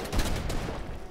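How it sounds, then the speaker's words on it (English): Shotgun blasts in Fortnite, a dense burst of sharp reports rolling together for a little over a second, loud and close with no talking over them. "Great shotgun."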